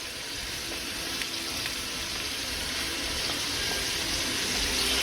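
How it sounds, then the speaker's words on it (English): Chicken hearts and gizzards sauteing in butter give a steady, close sizzle and crackle that holds constant throughout, with a few faint clicks and no voices. "so the hearts and gizzards are sauteing"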